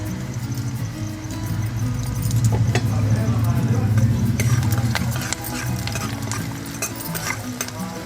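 Onions frying in a pan while being stirred, a steady loud sizzle with scraping and clinking of the spoon against the pan throughout.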